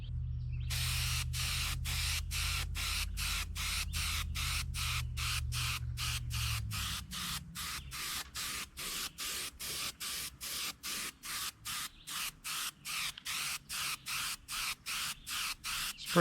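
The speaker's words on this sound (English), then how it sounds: "Spray the entire fish, including the fins." Lacquer paint spray-gunned over a muskie fish replica in rapid, even bursts, a steady hissing spray broken into regular short pulses, with a low motor hum fading out partway through.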